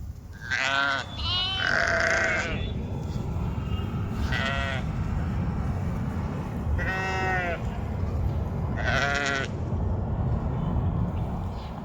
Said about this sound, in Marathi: आमचे मेंढर